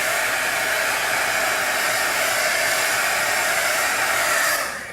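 A hair dryer runs steadily at close range, drying homemade washi tape with an even, loud airy whoosh and motor hum that holds for several seconds before cutting off at the end.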